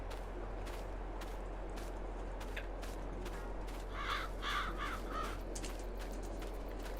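Crows caw in a farming video game, a short burst of several distant harsh calls over steady low ambience, with faint clicks scattered throughout.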